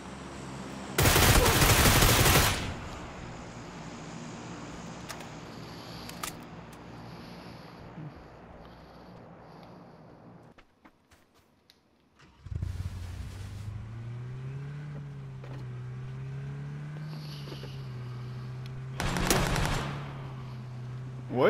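Bursts of gunfire in PUBG: a loud burst near the start and another around the end, with a car engine droning and revving in between after a brief lull.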